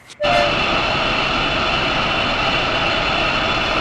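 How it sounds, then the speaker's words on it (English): Three steam engines in engine sheds hiss loudly and steadily after a sudden burst, a continuous, near rush of venting like a locomotive letting off steam. "And all three engines let off steam in a cheeky way."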